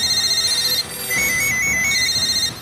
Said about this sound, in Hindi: प्रधानमंत्री कार्यालय के फोन लगातार घनघना रहे हैं।